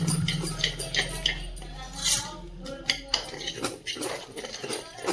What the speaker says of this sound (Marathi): पूर्ण असं मिक्स करून घ्यायचं आहे आपल्याला